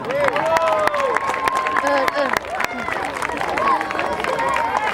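Audience applause and cheering at an outdoor youth football tournament trophy ceremony, a dense crowd roar with whoops and clapping sustained throughout, with an announcer's voice and crowd chatter mixed in.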